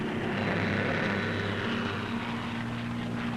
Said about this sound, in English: Here's the Lightning, the P-38, master of the air in many theaters of war.